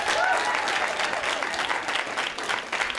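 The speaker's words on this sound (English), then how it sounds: "so let's give him a round of applause." An audience gives steady, dense applause for a host at a live improv comedy show, bright and continuous, holding fairly even before it tapers slightly at the end.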